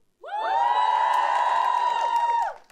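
Student audience cheering and whooping in a lecture setting, a sudden loud burst of shouting that holds for about two seconds and then cuts off abruptly.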